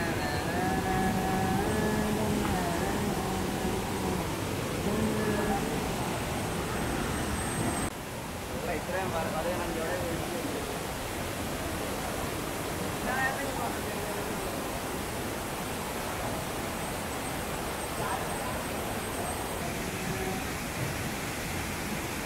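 Erattinpuram waterfall in full rain-swollen flow gives a dense, steady roar of rushing water, loud and close throughout, without a break or any clear talk over it.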